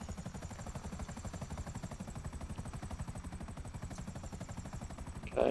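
A helicopter's rotor thumps in rapid, even pulses with a steady engine whine in GTA 5 during the Pacific Standard heist, continuous and close, ending with a brief louder burst.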